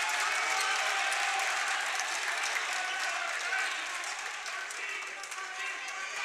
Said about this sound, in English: Mountain View crowd goes wild.